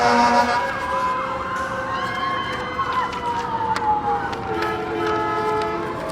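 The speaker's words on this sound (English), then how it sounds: "The sirens are through." Wailing emergency vehicle sirens sweep up and down at the Dexter Christmas Parade, loud and close, with engine rumble and voices underneath throughout.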